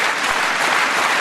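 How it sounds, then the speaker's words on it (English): Steady applause from a stadium crowd at a Diamond League athletics meeting in Gateshead, a dense continuous wash of clapping with no pauses. "And crowd clapping there in support of the jump going on in the meantime"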